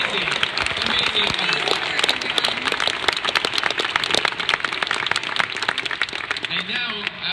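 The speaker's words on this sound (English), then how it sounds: "Let's hear some applause for our contestants." An audience at the IronViz 2015 data visualization competition applauds the contestants, a continuous, even wash of many hands clapping that holds steady for the whole stretch without pause.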